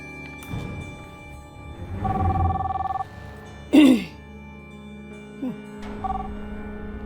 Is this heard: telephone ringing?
yes